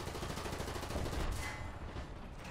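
Continuous rapid gunfire in the tank game War Thunder, a dense rattling stream that is loud at first and thins out toward the end, with no talk over it.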